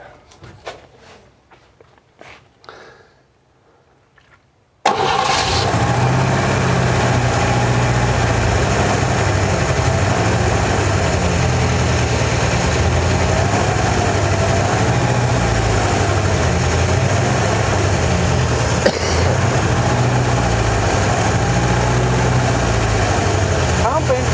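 A 1957 Chevy Bel Air engine, revived after 35 years of sitting, fires up after a few seconds of quiet and settles into a loud, steady, rumbling idle that runs close and unbroken for the rest of the clip.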